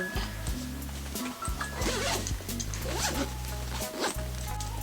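A zipper on a baby box bag is pulled open in several quick, close rasping strokes with short pauses, loud and alone with no talking.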